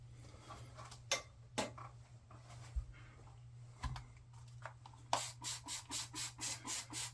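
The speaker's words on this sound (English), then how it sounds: "we'll get this shave going" Razor scraping across a lathered face in slow, soft strokes, then a quicker run of rhythmic rasping passes near and clear.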